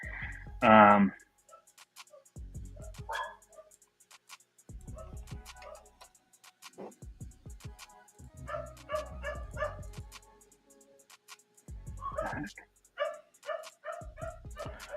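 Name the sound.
dogs barking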